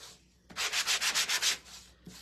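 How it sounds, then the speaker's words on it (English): A sanding block is rubbed back and forth over whitewashed wood in about eight quick, even strokes, a close, gritty scratching with a short scrape after a pause. "I'm going to take a sanding block and I'm going to just sand"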